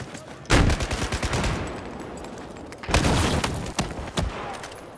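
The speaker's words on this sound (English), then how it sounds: "You can even tell when an enemy has barely missed you by the way the gunshot sounds." Gunfire in a Battlefield first-person shooter game: a loud burst of rapid shots, then a lull, then another cluster of cracking reports with a few separate single shots near the end.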